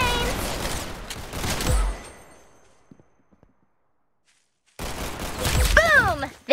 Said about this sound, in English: What an amazing shot!